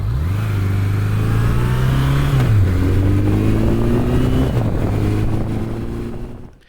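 A Honda CB1100 Deluxe motorcycle rides along a country road, its engine droning loud and close with a steady low note that rises, drops at a gear change, climbs again, then eases off and fades at the end.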